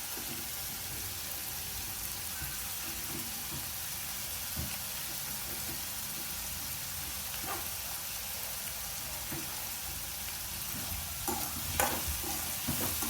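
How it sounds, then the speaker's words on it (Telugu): Mushrooms fry in oil in a pan, with cumin added, until golden brown, a steady crackling sizzle broken by occasional scraping stirs and clinks close by. "గోల్డెన్ బ్రౌన్ వచ్చే వరకు ఆయిల్లో ఇలా వేపుకోవాలి."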